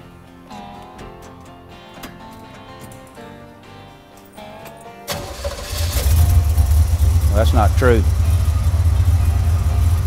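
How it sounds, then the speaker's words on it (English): An old hot rod engine cranks briefly and then fires, settling into a loud, rough idle, after a stretch of someone talking over quiet sound. "If the car is tuned properly, it should crank just like that every time."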